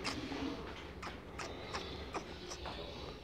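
Fischer's lovebirds in a breeding cage setup chirp with short, sharp calls repeated every half second or so, faint against a soft background hum.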